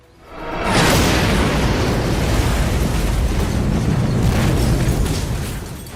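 An explosive sabotage charge detonates in a powerful explosion, sustaining a loud, broadband roar that rumbles on for several seconds before slowly easing off.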